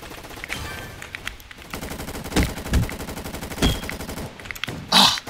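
Rapid automatic gunfire from a gun in the Roblox game Gunfight Arena, bursts of fast, sharp shots with several heavier cracks standing out, close and loud with no talk over them.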